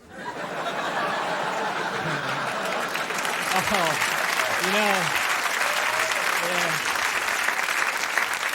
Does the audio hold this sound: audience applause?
yes